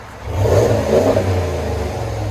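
A 2022 Ram Rebel pickup's stock 5.7-liter Hemi V8 revs sharply once, a throaty burst rising over the idle, then settles back to a steady low rumble.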